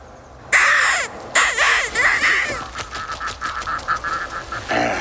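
A bird calls out in a series of loud, harsh caws, an opening pair of long cries followed by a run of shorter rhythmic squawks, close and clear with no talking.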